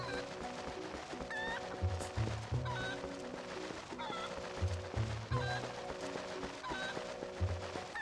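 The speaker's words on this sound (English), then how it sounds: "Here's a chicken." A video game chicken in Zelda: Twilight Princess clucks in short, repeated bursts over a looping musical background, the clucks recurring every second or so at moderate loudness.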